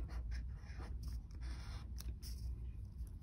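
A pen or pencil writes numbers by hand on paper while working a multiplication problem, a soft continuous scratching at close range over a low steady background hum.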